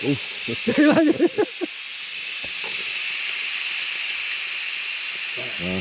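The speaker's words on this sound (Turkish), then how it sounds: "Bakın şimdi buhara bakın nasıl atıyor bak." Steam hisses steadily out of a pressure cooker releasing pressure while beef stew cooks inside a camper van, a close, continuous hiss that follows a burst of talk and laughter near the start.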